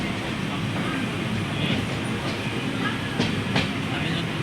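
A long train rolls slowly over rails through hilly country, heard from the last coach as a constant rumbling roar with scattered squeals and clanks from the wheels and couplings.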